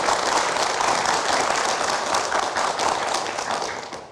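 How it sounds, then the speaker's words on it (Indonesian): Steady, dense applause from a studio audience on an Indonesian sports talk show, loud and continuous throughout with no break. "Oke, kita berikan tepuk tangan dulu."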